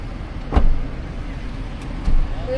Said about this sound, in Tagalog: Ito na yung aming sasakyan papunta sa dinner.